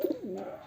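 A single fancy pigeon gives a short, soft coo close by, a brief low throaty call that rises and falls once in a quiet space.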